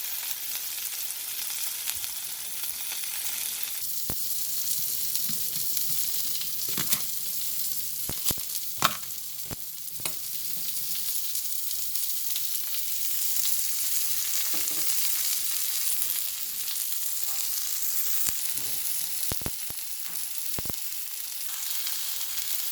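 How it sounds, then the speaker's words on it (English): A beef steak sears in a hot pan, a constant loud sizzle that fills the whole stretch, with occasional pops and faint clinks, close and without talk. "Yes, that searing voice. I was looking for that voice."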